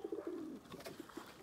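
A pigeon coos in soft, low, rolling phrases, a few repeated calls close to the microphone in a quiet loft setting, with no voices.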